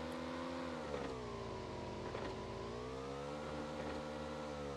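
Motorcycle engine in the PUBG Mobile video game, a steady, humming drone whose pitch rises and dips gently as the bike rides along, heard alone at moderate volume.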